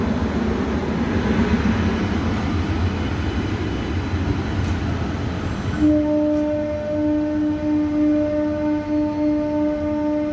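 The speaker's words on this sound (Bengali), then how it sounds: "আর এদিক থেকে একটা মেমু ট্রেন বেরোচ্ছে" A MEMU train pulls out of Asansol junction. A broad, loud rumble fills the first half, then gives way to a sustained horn-like tone that holds steady to the end, with no one talking.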